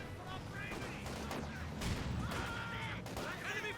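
A German leIG infantry gun fires in a Company of Heroes 2 match on the Across The Rhine map, heavy booming shots over a constant rumble of battlefield gunfire, with a commentator talking throughout.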